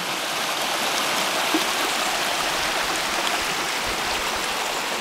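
Slate Creek flowing through redwood forest in Portola Redwoods State Park, a constant broadband rushing and babbling of water, steady and fairly close with no voices.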